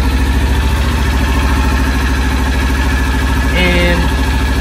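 A 2020 Kawasaki Ninja 400 ABS motorcycle sits idling in neutral, its engine giving a steady low-pitched hum with an even pulsing rhythm close by, and a brief higher whine rising near the end.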